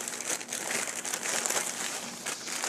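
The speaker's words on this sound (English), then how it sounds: "I'm going to get a new piece of plastic bag, and I'm going to slide that right inside" A plastic bag is handled and crinkled at close range, with continuous crackling rustles and small bursts that come and go, with no talking.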